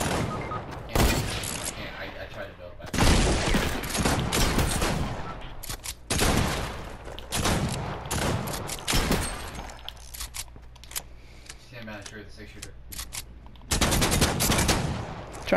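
Gunfire in a Wild West video game: loud, repeated bursts of rapid shots and fusillades in clusters throughout, with brief pauses between volleys, while players talk over the action.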